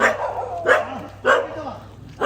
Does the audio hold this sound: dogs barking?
yes